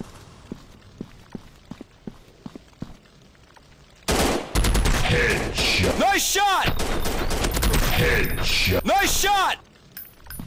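Gunfire from a first-person shooter video game: after about four seconds of soft, faint clicking mechanisms, loud bursts of rapid shots and ricocheting effects break out, with sweeping tones layered over the continuous barrage.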